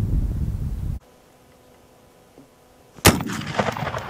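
A Smith Carbine rifle fires one loud, sharp shot outdoors, cracking suddenly after a quiet pause and leaving a short rumbling echo that fades away.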